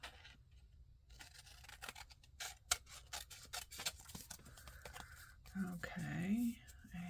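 Scissors trimming paper for a journal craft project, with soft snips and rustling scattered through the clip and a denser cutting burst near the end, heard close up and fairly quiet under faint background noise.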